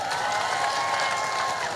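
An audience at a religious lecture claps steadily, a dense, even wash of applause with no break and no talk over it.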